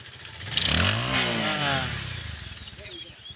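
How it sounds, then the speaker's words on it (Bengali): A motorcycle engine starts and revs up to a loud, rough roar, holds briefly, then drops back to a throbbing idle close by. "আবার বাইক স্টার্ট দিলাম"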